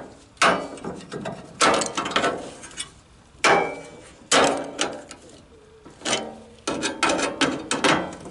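A hammer planishes thin, bare sheet steel ahead of welding on a Citroën Traction 11B, ringing out in sharp metallic strikes, single and in quick clusters, loud and close with no voices.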